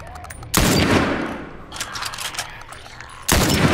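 Bursts of rifle fire in The Last of Us on PS4 open and close the stretch, with a sharp volley at the start and another at the end and scattered quieter shots and rumble between them.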